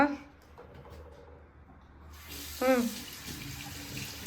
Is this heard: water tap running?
yes